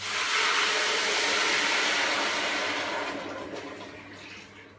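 Tap water pours steadily and loudly into a pan holding chicken broth ingredients and chopped coriander, a continuous rushing splash that eases off toward the end, with no talking.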